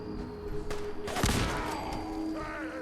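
A shotgun fires once in Fallout 4, a single loud blast with a booming tail, set against a steady game soundscape.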